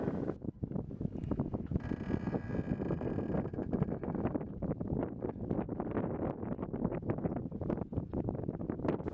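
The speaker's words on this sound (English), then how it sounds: "as I make my way into the slip, the wind picks up, and it also shifts a little bit" Gusty wind buffets the microphone aboard a small sailboat easing into a dock slip, a loud rushing roar with bursts of rustle and flapping, continuous throughout.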